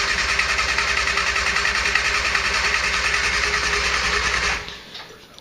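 A Triumph Spitfire engine cranks on the starter, giving a steady, rapid churning whir. It runs at an even level for about four and a half seconds, then cuts off abruptly.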